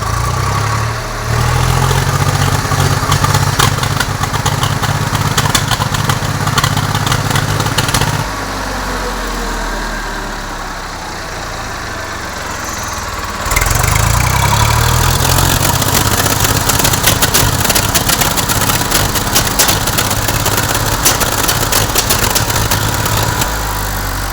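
A Swaraj 744 FE tractor with a faulty silencer that throws fire and black smoke, its engine running loud and close with a steady chugging idle and a rough, popping exhaust. The sound dips briefly midway, then returns at full strength.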